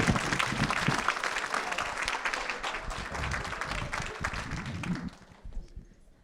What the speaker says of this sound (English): Would you give a round of applause to Denny and Jess,